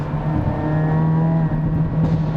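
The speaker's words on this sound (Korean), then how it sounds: "지금 또 터널이 있어서 살짝 배기 사운드를 터뜨려 보도록 할게요." A Hyundai Avante N drives through a tunnel, its exhaust holding a loud, steady, booming drone with a strong low tone that echoes throughout.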